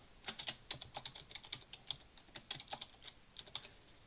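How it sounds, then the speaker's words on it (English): Computer keyboard typing while playing a Minecraft-style server game, a quick irregular run of close, crisp key clicks with short pauses, fairly quiet. "I hate typing."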